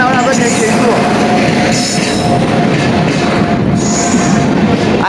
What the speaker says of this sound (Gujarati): ફાઇનલી ભાઈ લોકો આપણી ટ્રેન આવી ગઈ છે